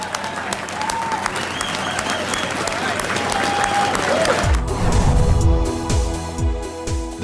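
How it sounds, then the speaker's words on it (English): Crowd at the opening of Boston's Big Dig harbor tunnel applauding the builders, a broad wave of clapping and cheering under a speaking voice, swelling louder before music enters. "Let's give them the round of applause that they deserve for building this project."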